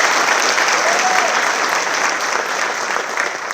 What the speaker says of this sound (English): Let's have one more round of applause for Baron,